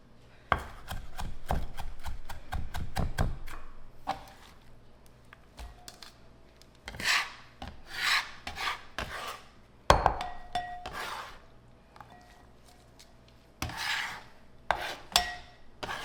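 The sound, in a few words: chopping garden cilantro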